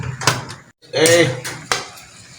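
A cooking pot is covered with its lid while bamboo shoots are prepared for boiling, giving a few sharp metallic clinks and a scraping rattle, close by and fairly loud, with a brief quiet gap between them.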